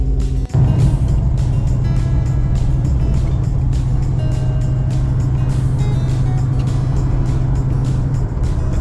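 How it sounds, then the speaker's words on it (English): Old Plymouth Barracuda cruising on a road, its engine holding a loud, steady drone throughout with a brief dip near the start and another near the end. "it's always a good time when I can get the old Barracuda out and cruise it."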